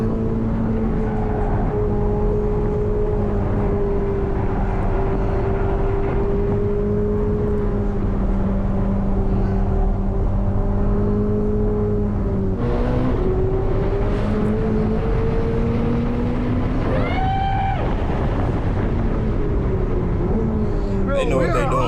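Twin-turbo Corvette ZR1 accelerating at high speed, a loud, close, sustained engine drone that rises and shifts pitch through gear changes, with a brief roar and swell in the final seconds.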